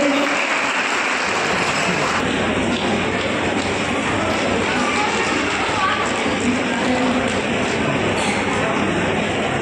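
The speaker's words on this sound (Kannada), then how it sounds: "ದಯವಿಟ್ಟು ಎಲ್ಲರೂ ಚಪ್ಪಾಳೆ ಮಾಡಿಸಿ" An audience at a Women's Day event applauds in a dense, steady wash of clapping that stays loud and close for nearly ten seconds.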